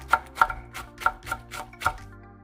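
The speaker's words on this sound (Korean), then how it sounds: "청양고추 2-3개를 썰어줍니다." Two or three Cheongyang chili peppers chopped with a knife on a cutting board, six crisp, evenly spaced close knocks in a steady rhythm, with no voices.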